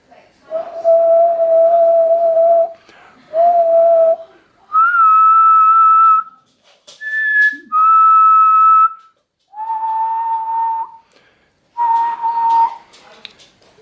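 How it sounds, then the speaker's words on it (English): Whistled tones go into a handheld radio microphone while the push-to-talk is keyed, heard as a series of steady held notes at several pitches, each lasting one to two seconds and separated by short pauses, clear and close. "I'm going to take the microphone and I'll just whistle into it"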